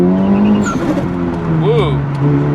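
A widebody Honda Civic Type R FK8, freshly fitted with new spark plugs and coil packs, accelerates hard at full throttle. The engine note rises and then falls as the car pulls, with no misfire and a voice briefly heard over it.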